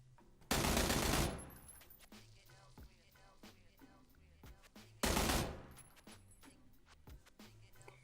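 Automatic gunfire in a video game, two sharp sustained bursts about a second long each, separated by quieter clicks and ambient game noise.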